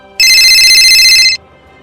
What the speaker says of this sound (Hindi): तभी उसके फोन पर फोन आ जाता है।